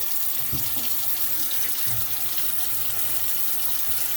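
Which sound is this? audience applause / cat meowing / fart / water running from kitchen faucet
water running from kitchen faucet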